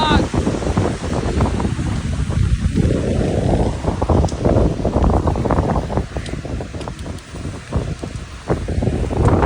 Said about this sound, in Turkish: Acayip esiyor.